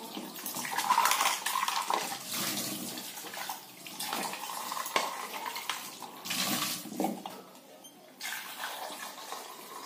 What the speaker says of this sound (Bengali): ধুয়ে নেব আলুগুলো